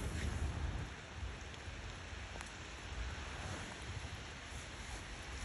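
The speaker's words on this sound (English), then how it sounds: "It's still raining, but it's just not raining as hard as it was before." Steady rain falls outdoors as a soft, continuous hiss with a low rumbling undertone, fairly faint and unbroken, with no voices.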